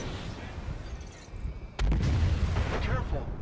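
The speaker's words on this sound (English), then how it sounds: "Its shields are down. Finish it off with a missile." A missile is launched at a ship in the Star Citizen space combat game: a sudden booming blast partway through, followed by a sustained roaring rumble, over a low background hum.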